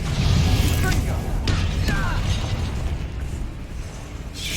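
A spell cast in the Hogwarts Legacy video game lands as a loud burst with a booming crackle over dense, rumbling combat noise, followed by a bright swishing flourish, all up close.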